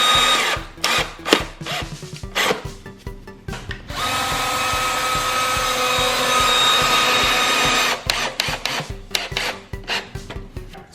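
Power drill driving screws into a drywall patch, loud close whirring bursts with stuttering starts, then a long steady run of several seconds before more short choppy bursts.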